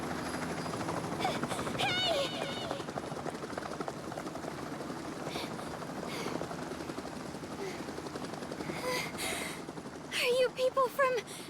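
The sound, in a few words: helicopter arriving in Danganronpa Ultra Despair Girls video game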